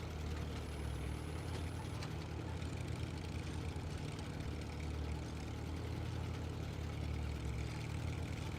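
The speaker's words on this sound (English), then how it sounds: "It's just like an old truck sound." An old truck engine in the off-road driving game SnowRunner runs steadily at a low idle, a continuous rumbling drone heard close and alone with no breaks.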